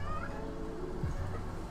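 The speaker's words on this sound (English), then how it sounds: "Sorry, my cat is in heat." A female cat in heat calling with a drawn-out, wavering yowl, fairly faint and steady in a quiet indoor room, with no talking.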